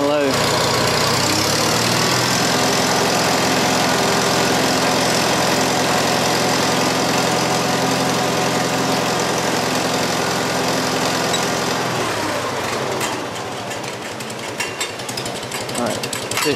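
A Farmall 140 tractor engine idles loudly and close for about twelve seconds, a steady throbbing chug, then the tone drops and roughens as the revs change.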